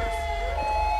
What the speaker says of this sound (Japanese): 救急車が到着です、すげえ。あ、また消防車が来た。